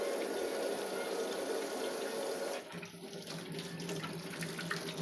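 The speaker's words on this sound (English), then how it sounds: "Wash your hands." A kitchen tap runs steadily while hands are washed under the stream. The rush of water is close and continuous, changing in tone partway through as hands move under the flow.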